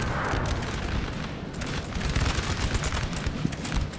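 Artillery and musket fire in Napoleon Total War, a dense continuous crackle of overlapping musket volleys with deep booming thuds underneath, sustained and loud throughout.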